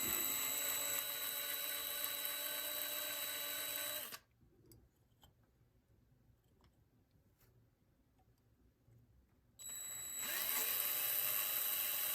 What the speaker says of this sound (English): we'll start off by drilling out these couple rivets here and taking it apart